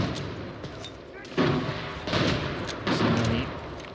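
Shots cracking back and forth in a shooter game, with several loud broadband bursts of gunfire and booms rising above a continuous noisy battle bed.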